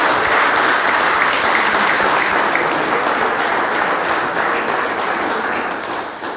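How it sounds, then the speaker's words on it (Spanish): Audience applause fills the room in a dense, steady wash for several seconds after a talk, staying loud and even before fading slightly at the end. "Lo despedimos con un aplauso"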